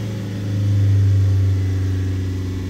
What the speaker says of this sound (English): If we rev it up, let's get it to 3000 RPM.